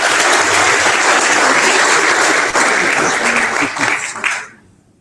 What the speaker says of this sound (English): Round of applause for all of them, please